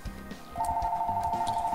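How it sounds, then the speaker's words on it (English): A telephone rings with a steady electronic tone that begins partway through, over a low rhythmic game music background. "And there's the phone."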